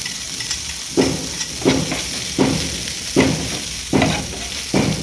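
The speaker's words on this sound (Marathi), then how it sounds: "मिरच्या व्यवस्थितपणे फ्राय करून घेतल्या" Green chillies frying in hot oil with mustard seeds and cumin give a steady sizzle, broken about every second by a stir that briefly lifts the crackle.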